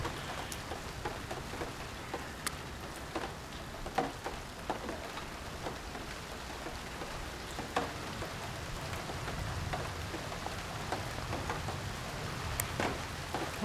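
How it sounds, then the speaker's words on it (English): Rain starting to fall during a lightning storm in the middle of a heat wave: a soft, steady patter with scattered sharper drops, fairly faint and distant, with no one talking. "here comes the rain"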